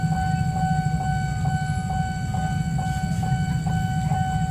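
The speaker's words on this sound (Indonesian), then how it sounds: "Masuk kereta dari arah Jatinegara." Train arriving from the Jatinegara direction with a low rumbling roar and steady tonal hum, plus a faint rhythmic clicking repeating about every half second, all fairly distant.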